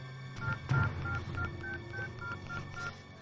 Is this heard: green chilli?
no